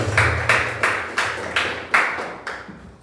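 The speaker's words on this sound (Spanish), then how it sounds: "Gloria a Dios, dale un aplauso." Church congregation applauding during a service, a series of about eight evenly spaced, ringing claps in steady rhythm, each decaying in a reverberant room, over a low hum.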